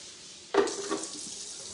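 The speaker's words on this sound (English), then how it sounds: "we wanna rinse it really fast, and that's easy in the micro cooker because it has these little strainer holes" Water pours from a tap over rice in a plastic micro cooker with strainer holes for rinsing, a short gush starting abruptly near the mic, then a softer trickle and splash in a kitchen.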